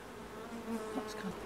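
Honeybees hum softly in an open, well-populated hive frame, a faint steady buzz with a few brief louder passes near the end.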